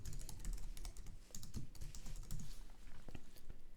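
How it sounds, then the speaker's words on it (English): Rapid, uneven keystrokes on a computer keyboard clatter steadily through the whole stretch, close and fairly quiet, with no voice over them. "Let me type it here."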